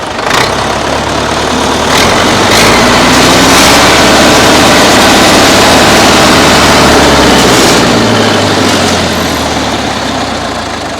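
An original 1984 HMT 5911 tractor diesel engine starts and settles into a loud, steady, rough idle that fills the whole stretch, with a few sharp knocks near the start.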